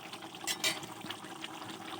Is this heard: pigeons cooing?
no